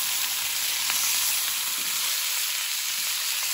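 Asparagus tossed into a frying pan with salmon, garlic and butter gives off a steady, close hiss of sizzling fat that holds evenly throughout, with no voices.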